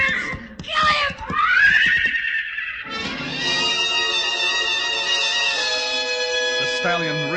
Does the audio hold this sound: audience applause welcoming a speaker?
no